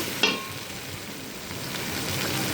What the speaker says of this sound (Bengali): এখন এগুলো সবটাই এখন ভালোভাবে কষিয়ে নিচ্ছি নেড়ে চেড়ে কষিয়ে নিব